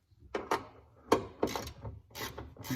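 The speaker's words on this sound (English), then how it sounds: "we're gonna go in and tighten these nuts" Ratchet tightening door nuts on a 2007-2013 Toyota Tundra, a few short clicking bursts in quick succession, close and fairly quiet.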